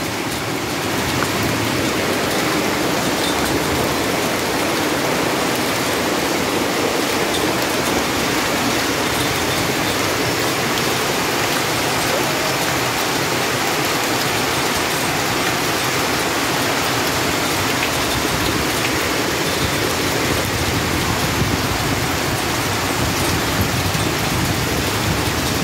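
Hail pelting a balcony in Ioannina during a heavy storm, a dense, steady roar of countless impacts that holds loud and unbroken throughout, with no voices.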